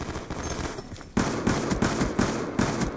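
Rapid automatic gunfire from the video game Black Ops 2 rattles in loud, dense bursts with brief gaps, close and continuous.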